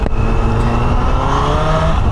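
A car engine with no exhaust fitted revs loudly and raggedly up close, a harsh continuous roar rising in pitch, heard alone in a street in Adana.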